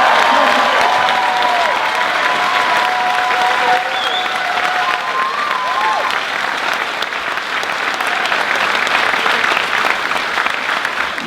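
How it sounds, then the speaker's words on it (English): Loud, sustained applause from a large audience at an autism talent show, a dense continuous roar of clapping for over ten seconds with faint cheers and voices mixed in. "can I have a round of applause for Jim?"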